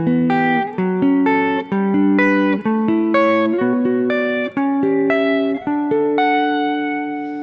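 Guitar plays wide interval triads through a chord progression, a steady run of ringing three-note chords changing roughly every half second, clear and close with light effects and no talking.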